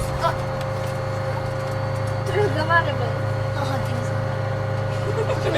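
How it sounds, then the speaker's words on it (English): Steady droning engine of a small single-engine propeller plane in flight toward Lake Turkana, a constant close hum with a voice talking over it. "This is the sound of a small single-engine airplane flying me to the shores of Lake"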